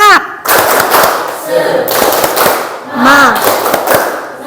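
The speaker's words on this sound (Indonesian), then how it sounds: "Ayo kita semuanya tepuk semangat." A class of students performs the rhythmic 'tepuk semangat' clapping cheer, patterned group clapping mixed with loud chanted voices and shouts in a classroom.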